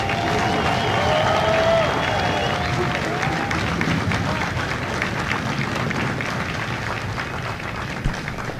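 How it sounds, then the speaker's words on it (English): A large crowd applauds at a Marine Corps recruit graduation ceremony at MCRD San Diego, with broad, sustained clapping heard outdoors at a distance and faint voices mixed into the crowd noise. "please join me in a round of applause for the company staff of Company B"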